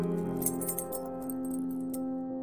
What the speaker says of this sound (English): looking for my keys to unlock the door